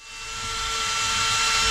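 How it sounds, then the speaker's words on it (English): A power drill bores into a wall to hang a mirror, hitting metal behind the surface; a steady high whine builds and holds loud and close for under two seconds, with no talk. "It's quite hard to drill then."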